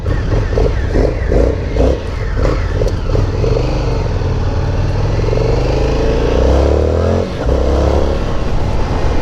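An Indian FTR R Carbon motorcycle engine revs loudly up close, its grunty exhaust rising and falling through several throttle blips before climbing in a sustained pull.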